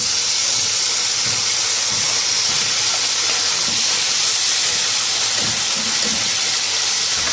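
Frozen peas and carrots sizzle in a hot pan with onion and garlic, a loud, steady, close hiss like rushing steam that holds unbroken throughout, with no voices.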